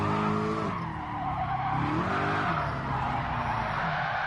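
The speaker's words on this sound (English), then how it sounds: "Let's try and drift it on super soft tires like so." A race car drifts on super soft tires in Gran Turismo Sport, loud tires squealing and skidding continuously over a revving engine for several seconds, up close and without speech.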